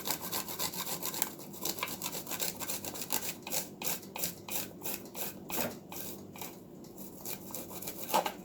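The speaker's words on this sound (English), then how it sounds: "This is a zester, but it's good at almost, what you can say, grating the garlic." Garlic is grated on a handheld zester in repeated quick rasping strokes, steady and close but fairly quiet, with no talk.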